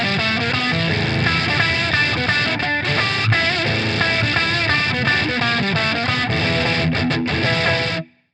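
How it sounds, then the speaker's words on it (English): A heavily fuzzed guitar through a bit crusher and sample rate reducer pedal plays continuously, gritty and distorted with a lo-fi digital edge, before cutting off abruptly at the end. "the fuzzed up version of the bit crusher with the sample rate reducer"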